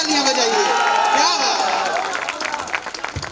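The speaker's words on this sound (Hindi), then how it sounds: "भाई जोरदार तालियां बजाइए" Applause and cheering rise from the audience at a Hindi kavi sammelan poetry recital on a college stage, a dense, sustained wash of clapping that thins toward the end, mixed with crowd voices.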